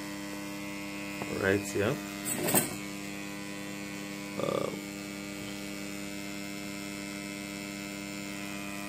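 A switched-on transformer with no load yet connected gives a steady, faint electrical hum, with a person's brief speech breaking in a few times.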